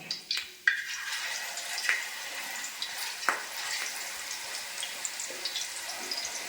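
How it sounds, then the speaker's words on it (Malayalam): Kera fish pieces sizzling steadily in hot sesame oil seasoned with curry leaves, a close, continuous crackling hiss with scattered sharp pops and spits, no voices. "അപ്പോൾ നമുക്ക് കുറേശ്ശെ നമ്മുടെ മീൻ നിരത്തി കൊടുക്കാം."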